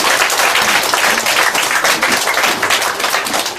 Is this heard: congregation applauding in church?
yes